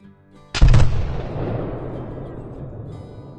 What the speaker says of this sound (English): So once her head goes back down, I think we'll take the shot, provided he has his head up.